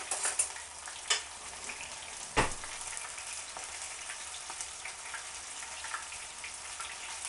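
Battered onion rings frying in hot oil, a steady close sizzle with occasional sharper pops and crackles.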